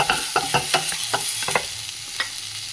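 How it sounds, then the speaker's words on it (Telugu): Onion stirred and frying in a pan for ullipaya pachadi, with close, irregular scrapes and clatters of the spatula over a steady sizzle. "అటు సైడ్ తిప్పుకొని ఆనియన్ వేసుకోవాలన్నమాట"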